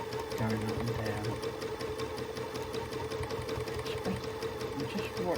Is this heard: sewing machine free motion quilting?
yes